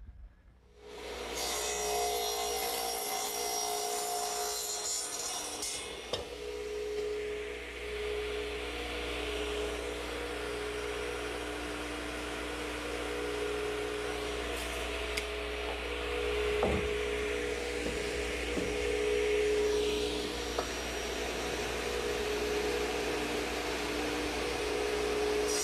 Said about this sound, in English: to the radial arm setup, I want to cut 3 pieces of 2x4